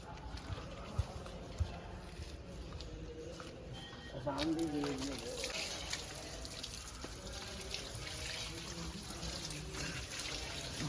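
Water runs from an outdoor pipe tap as someone washes their hands and feet, a steady close splashing that starts partway through and continues to the end, with people talking in the background.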